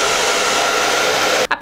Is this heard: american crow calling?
no